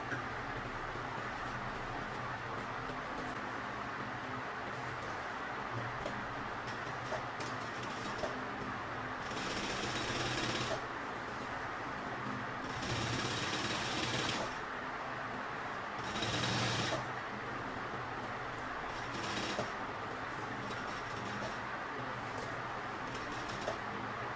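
A sewing machine stitches a fabric teacher's bag in a steady mechanical whir, running continuously with a few louder, brighter bursts as the stitching speeds up, close and fairly quiet.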